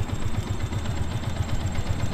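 A Sniper FI 150 motorcycle engine idles steadily with an even, rapid low pulse, started while still fairly cold, with a faint noise barely noticeable over the running engine.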